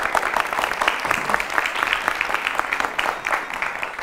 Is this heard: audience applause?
yes